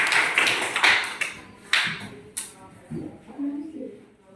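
Schoolchildren in a classroom clap their hands in a short, uneven burst of taps that fades out, followed by a few scattered softer sounds.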